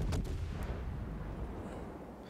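Heavy battleship guns fire on the British battleship HMS Queen Elizabeth in the naval game World of Warships, opening with a deep, booming salvo that rolls away into a long, low rumble.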